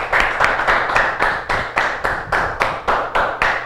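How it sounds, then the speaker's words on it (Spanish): Rhythmic clapping from an audience greeting a guest on a variety show, sharp regular claps in a steady beat at about three per second, close and prominent with no talk over them. "Vamos a recibirlo con un fuerte aplauso,"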